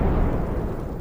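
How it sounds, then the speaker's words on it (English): A huge explosion at a munitions factory in East London in 1917 rolls out as a dense, sustained low rumble, heavy and booming, filling the whole moment without any voices. "There was a huge explosion."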